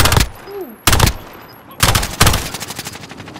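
Bursts of automatic gunfire in a Call of Duty battle royale match, loud and close, coming in several separated rapid volleys with brief quieter gaps between them.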